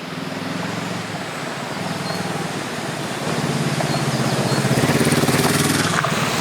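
Honda CL500 motorcycle engine while riding on a forest road, a steady droning exhaust note and rushing wind that grows louder over the last seconds, heard alone and close.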